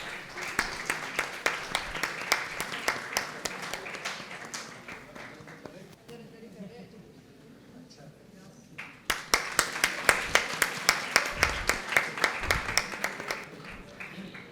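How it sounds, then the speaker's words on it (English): An audience at a panel discussion claps in a sparse, moderately loud round of applause, with distinct individual claps, a quieter stretch in the middle, then a stronger burst of clapping. "Please, a round of applause."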